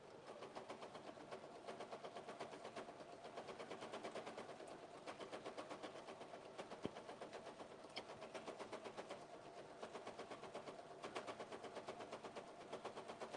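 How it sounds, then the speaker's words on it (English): A domestic sewing machine runs continuously while stitching through the pleated top of a skirt, a quiet, fast mechanical rhythm with repeated thuds that pauses briefly a few times over about 13 seconds, with no voices. "It's got a lot of thudding because what it's doing when I'm sewing, because I've got those pleats at the top of the skirt"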